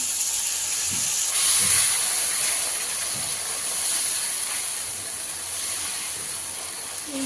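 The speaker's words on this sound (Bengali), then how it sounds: "একটু পানি দিয়ে কষিয়ে নিচ্ছি" Water splashes onto cumin, coriander and other spices frying in a hot pan, releasing a loud, close, continuous steam hiss that swells and slowly eases, with no voices.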